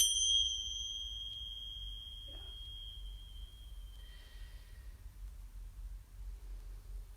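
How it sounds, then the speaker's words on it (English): A clear bell rings once with a long, fading metallic tone over a quiet background hum, followed by a couple of faint soft chimes. "And here's some bells."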